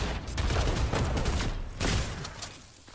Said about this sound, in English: Why are they shooting us, friend?